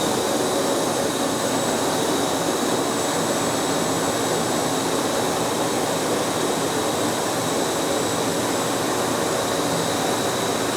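A Milwaukee 6.5 horsepower AC wet/dry vac power head runs steadily, a loud, constant rushing roar with a faint high whine, unbroken for about eleven seconds with no talking.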